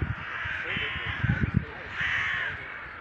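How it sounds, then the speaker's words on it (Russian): Crows caw repeatedly while flying over a lamplit park alley, harsh calls coming in two long rounds at moderate distance, with someone talking over them. "Вон как они активно летают, каркают."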